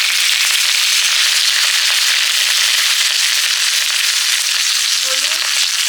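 Whole cumin seeds, ginger and tomato sizzling hard in hot oil for a potato curry, a loud steady fry with crackles throughout and a brief sharper hiss near the end.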